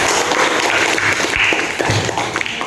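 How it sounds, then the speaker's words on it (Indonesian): A classroom audience applauds group 3 after their presentation on making warm milk coffee, with a dense, continuous patter of clapping that runs steadily for a few seconds. "Tepuk tangan sekali lagi untuk kelompok 3"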